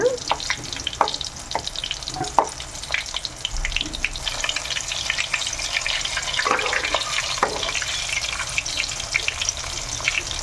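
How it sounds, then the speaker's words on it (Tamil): Chicken nuggets deep fry in hot oil, a dense, continuous crackling bubble close up with scattered sharper pops throughout and no voices. "நல்லா கிறிஸ்பியாக ஃப்ரை பண்ணிக்கோங்க"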